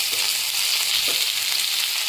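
Shallots, tomato, brinjal, potato and garlic fry in oil for a dal-free hotel-style tiffin sambar, giving a loud, steady sizzle with a few soft stirring scrapes.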